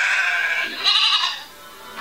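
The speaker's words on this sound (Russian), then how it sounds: "Баран у нас с тобой всю дорогу сопровождает." A ram bleats loudly in the LEGO Nexo Knights video game, drawn-out nasal calls repeated twice in close succession, then a faint start of another, with no speech over it.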